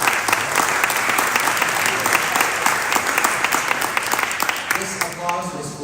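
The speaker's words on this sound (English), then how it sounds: "This applause was for you." Hall audience at an event with a minister gives a loud, dense round of applause for English-speaking guests, many hands clapping continuously, with a voice starting to talk as it fades near the end.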